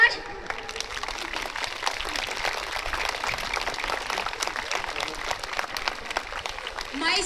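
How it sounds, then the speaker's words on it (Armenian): A crowd applauds loudly and steadily at an Armenian federation's festive event in Abovyan, with continuous dense clapping that keeps going throughout while voices are faintly heard within it. "ծափահարություններ շատ բարձր"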